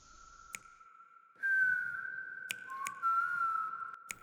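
A tuneful whistled melody, held and sliding notes, punctuated by a few crisp finger snaps spaced irregularly, close and clear with no talk.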